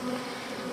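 Honeybees hum steadily at an open hive, a close, even drone that stays level and unbroken throughout with no voices.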